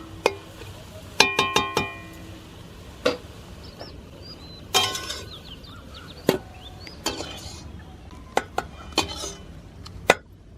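A cooking pot of boiled drumstick leaves and lentils is taken off a village stove, with sharp metallic clanks and knocks of pot and utensils striking, a dozen or so spaced hits over a quiet background.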